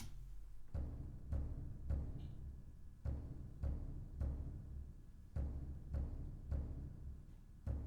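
Low hand drum and bass drum thump together in a steady repeating rhythm, deep and booming, with no voices.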